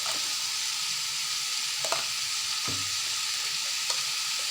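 Pumpkin frying in a pan for a pumpkin bhaji, with a steady hiss of sizzling oil and a few scraping stirs of the spatula, fairly close, no voices.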